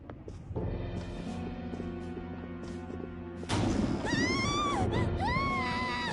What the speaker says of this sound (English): Scream? What was that?